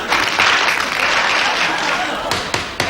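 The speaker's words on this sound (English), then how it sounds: "stock film of women applauding" Stock film footage of women applauding: brisk, fairly loud clapping from a group, with a voice talking over it and a few sharp bursts near the end.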